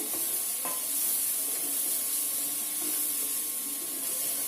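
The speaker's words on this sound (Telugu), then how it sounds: "రైస్ విడి తీసుకొని దీంట్లో కలిపేసుకోండి" Cooked rice is stirred into egg and corn fried rice in a hot pan over low heat, giving a steady sizzling hiss with soft scraping and occasional light taps of the spoon.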